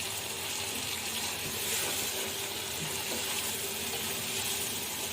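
Chicken fries in a pot with green coriander, a steady, close hiss and crackle of sizzling that holds level throughout without pause.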